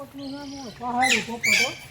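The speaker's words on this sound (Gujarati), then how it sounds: "ને પોપટ બોલે" A hill parrot at Junagadh's Sakkarbaug Zoo gives a few harsh, squawking calls close by, sliding in pitch with short pauses between them.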